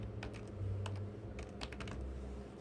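Keys clatter on a computer keyboard while a field name is entered during a PostgreSQL and pgAdmin III setup on Linux Mint 18. The taps come in short irregular bursts, soft and close, with no talking.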